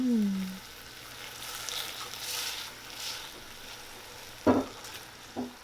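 Vegan carbonara pasta sizzling in a pan, a soft steady frying hiss with a brief low tone at the start and a couple of louder stirring clatters near the end, close and without talk.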